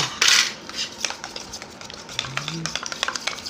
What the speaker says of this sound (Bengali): দইটাকে আমি খুব ভালো করে ফেটিয়ে নেব